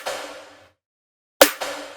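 A processed hip-hop snare rings out as a bright, noisy crack with a lingering reverb-like wash that fades over about half a second, then strikes again with a sharp attack and a quick echoing repeat, alone and without voices.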